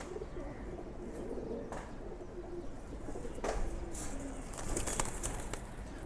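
Silver pigeons coo in a few soft, low, drawn-out calls over a constant hiss of background noise, fairly faint and with no voices present.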